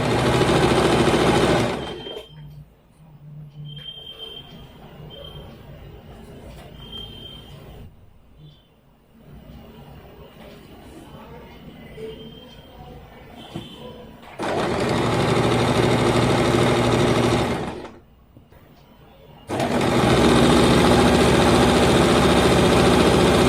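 Sewing machine stitching along the ankle hem of an Afghani salwar: three loud, steady motor runs, separated by quieter stretches with a faint hum and no talk.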